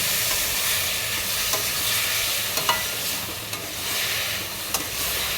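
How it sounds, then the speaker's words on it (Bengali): Chopped tomato frying with browned onion and slit green chilli in a pan, a steady loud sizzle with occasional scraping stirs and clinks throughout, no talking. "তার মধ্যে কুচনো টমেটো দিয়ে দেব। টমেটোটা বেশ কিছুক্ষণ কষিয়ে নেব।"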